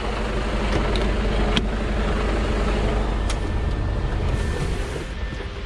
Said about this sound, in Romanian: Pornesc motorul.